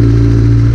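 A 2012 Kawasaki Ninja ZX-10R motorcycle engine running close by with a loud, steady idle drone, alone and without talk.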